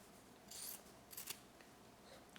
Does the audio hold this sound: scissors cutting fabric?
yes